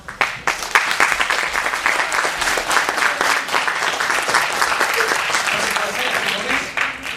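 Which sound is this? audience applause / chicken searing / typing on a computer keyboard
audience applause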